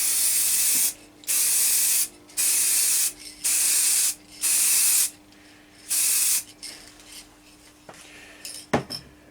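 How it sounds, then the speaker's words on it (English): Six short bursts of aerosol spray paint hiss in a steady rhythm, each about a second long, coating a wooden turned bowl, with a faint hum underneath and a sharp click near the end. "keep the spray can a fair way away"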